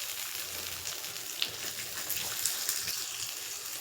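Tomatoes frying in a pan for a cucumber-tomato chutney, giving a steady, moderately loud sizzle with occasional small pops and crackles throughout, no voices.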